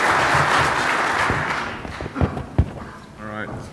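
An audience at a Black Hat 2012 security conference talk applauds in a dense burst that fades out, followed by scattered taps and a voice starting to talk.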